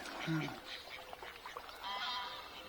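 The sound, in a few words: ducks squabbling and quacking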